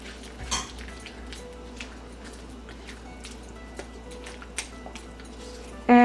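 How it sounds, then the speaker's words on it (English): A spoon stirs ghee into cooked chana dal in a pan. Soft scraping and scattered light clinks of metal against the pan sound at close range, with a louder knock near the end. "Let's stir the ghee in."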